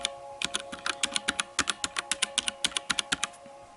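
Steady typing on a mechanical keyboard, a close, crisp run of individual keystroke clacks at an even, brisk pace with nothing else over it.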